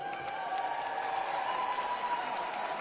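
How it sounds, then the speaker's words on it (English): A fairly distant audience at a political event applauds for the Independent Party, a soft, even wash of clapping with faint crowd murmur held steady throughout. "So give another round of applause"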